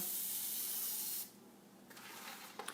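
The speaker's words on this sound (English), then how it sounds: "I'm using the Pam olive oil spray" A steady spray hiss from a Pam olive oil cooking spray can runs for over a second, then cuts off, leaving quiet room noise with a few faint clicks.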